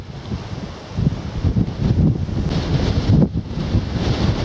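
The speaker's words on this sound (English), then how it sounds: "Excuse the wobbles, the wind." Strong gusty wind buffets the microphone on a coastal walk at Snettisham, a continuous loud low rumble and roar with no talking.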